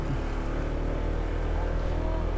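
A Honda PCX 160 scooter carrying a passenger rides over a potholed road in Atimonan, Quezon, with a steady close engine drone and wind rumble throughout.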